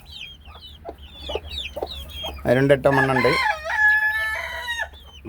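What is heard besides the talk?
chicken hen clucking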